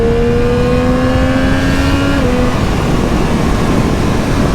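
A 2024 Triumph Street Triple R ridden at about 80 mph, a loud steady engine drone and induction tone rising slightly, then dropping to a lower pitch, buried in heavy wind rush.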